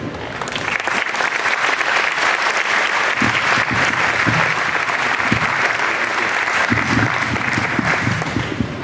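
Steady, loud audience applause fills a school district event honouring home visit volunteers, a dense continuous wash of clapping that holds evenly throughout.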